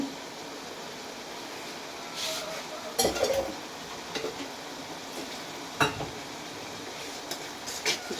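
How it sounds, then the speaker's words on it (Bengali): Spice masala for hilsa fish curry stirred and fried in a pan, faint background sizzle with intermittent scrapes and clanks of a spoon against the metal, some louder knocks scattered throughout. "এইভাবে নেড়ে চেড়ে নেবেন। মশলাটা অনেক ভালোভাবে কষাবেন।"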